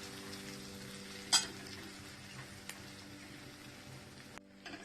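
Turmeric is stirred into a dish frying in a pan, heard as a soft steady sizzle with a single sharp utensil scrape against the pan and a few faint clinks near the end.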